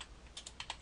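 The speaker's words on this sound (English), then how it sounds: "I'm going to type in ID equals" Several quick, soft keystrokes on a computer keyboard, tapped in a short uneven burst close by in a quiet room.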